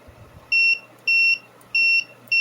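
A thermostat that tests good on a continuity test rig sets off its beep: four steady electronic tones, each about a quarter second long and evenly spaced, loud and close with no talk.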